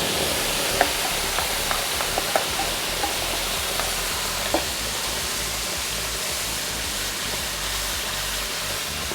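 Masala spices sizzle steadily in hot oil with fenugreek seeds for a Bihari fish curry, a continuous loud frying hiss broken by a few sharp spatters and crackles as the mix is stirred.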